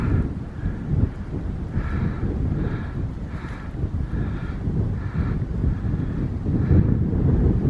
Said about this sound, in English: of course the wind picks up